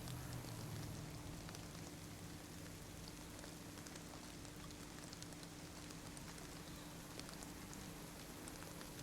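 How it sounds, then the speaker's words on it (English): Steady rain in the DayZ video game, a continuous dense patter of drops on surfaces that holds at an even level throughout, faint and distant, with no voices and no other sounds. "Here comes the rain again."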